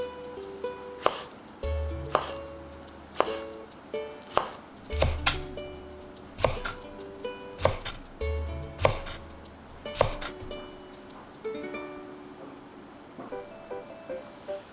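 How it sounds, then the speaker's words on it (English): A kitchen knife slices okra into thin rounds on a cutting board, making close, crisp, steady taps in short rhythmic runs with brief pauses between them. "Remove the navel of okra. Cut into thin round slices."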